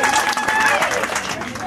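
Audience applause at a birthday celebration in Kenya: dense, steady clapping with crowd noise and a voice over it, continuous and fairly loud throughout the short stretch.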